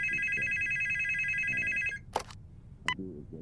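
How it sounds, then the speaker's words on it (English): A house telephone rings with a steady electronic trill that cuts off after about two seconds, followed by faint handling sounds and a couple of short clicks. "Oh, the house phone."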